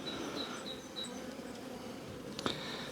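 Dense, steady buzzing of many honeybees swarming in an opened, packed beehive during a hive check beside a queen excluder, a close continuous drone with a brief louder burst near the end.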